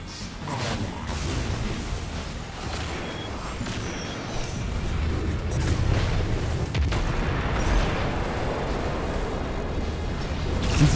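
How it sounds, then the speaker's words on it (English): Rocket launcher blasts and grenade explosions in a Destiny 2 Grandmaster Nightfall, a steady wash of rumbling booms and whooshes layered with gunfire, moderately loud and dense throughout without clear breaks. "I'm just going to shoot my rockets over there."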